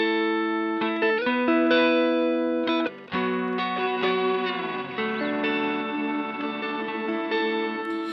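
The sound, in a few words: guitar pedal freeze scrub effect with spread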